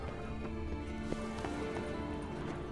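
Horses in a stable in the fantasy role-playing game The Witcher 3 clip-clop their hooves in a quick, uneven patter. The sound is moderately close, with a soft ambient hiss underneath.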